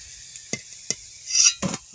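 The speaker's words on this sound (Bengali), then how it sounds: "এই যে লাল লাল করে ভেজে নিয়েছি" Pieces of fish fry in hot oil in a pan until reddened. Sharp clicks of stirring are broken by short bursts of loud, close sizzling.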